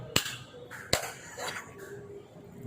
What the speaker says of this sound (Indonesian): Ada tepuk tangan, ikutan lah.